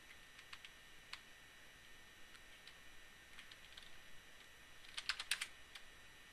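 Keys clack quietly on a computer keyboard as a command is typed, with scattered single taps giving way to a quick burst of keystrokes near the end.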